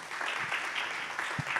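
Audience applause at a French panel discussion, a steady dense wash of clapping held at an even level throughout, with no voices over it.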